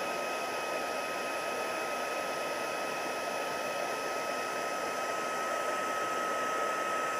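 An embossing heat tool blows a loud, steady airy roar as it melts embossing powder on a card, running close and unbroken throughout.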